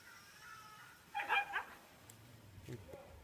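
Beside a Kerala road, dogs let out a brief cluster of sharp barks and yelps over low background noise, followed by fainter rumbling.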